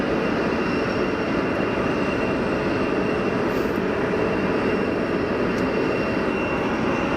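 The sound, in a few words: Wizz Air A320neo airliner engines at Geneva Airport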